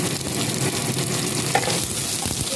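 Onion sizzles and fries in hot oil in a wok that already holds whole cumin seeds, with a steady, close crackling hiss and occasional stirring scrapes throughout and no talk.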